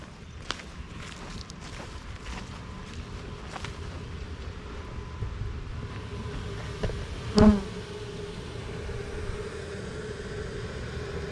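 Bees buzzing around a backyard beehive, a steady low drone of many insects with occasional louder passes close to the microphone, continuous and without talk.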